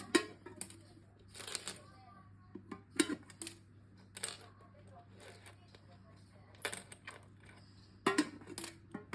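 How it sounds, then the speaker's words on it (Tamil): Coins drop one after another into a child's piggy bank at home, giving sharp, close metallic clinks at irregular intervals over a quiet room, with soft voices in the background. "முத உண்டியலில் காசு போடுங்க"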